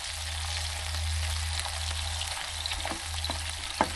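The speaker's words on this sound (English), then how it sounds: "Steak is getting brown." A British beef Denver steak sizzling in a hot pan, a continuous bright crackle over a low hum, with scattered pops and spits near the end.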